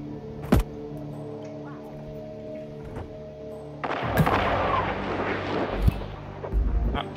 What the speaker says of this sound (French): Il y a une deuxième explosion.